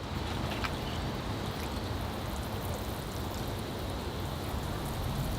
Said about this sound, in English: All right, here I go with the water.